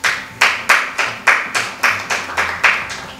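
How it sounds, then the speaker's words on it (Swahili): An audience at a public service address clapping in unison, about ten sharp, evenly spaced claps, loud and close, with no talk over them. "Mwanzo ni makofi tu hapo."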